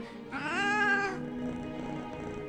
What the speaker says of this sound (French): Oh, méchant minou.